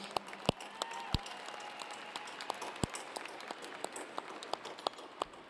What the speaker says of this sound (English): give you all a big round of applause for all that you've done to support the graduates